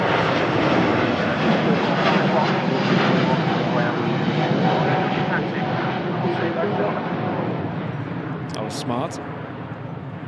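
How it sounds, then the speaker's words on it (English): A Singapore Airlines Airbus A350 departs, its engines a loud broad roar that slowly fades, with people talking over it. "Beautiful departure again from the 350."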